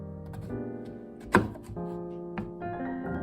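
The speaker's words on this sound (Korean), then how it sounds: "버섯 두 개를 준비해봤고요. 여기 밑둥을 잘라줍니다" A kitchen knife cuts through the stems of mushrooms on a board, giving a single sharp chop followed by a softer cut, both set against steady background music.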